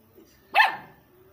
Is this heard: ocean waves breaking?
no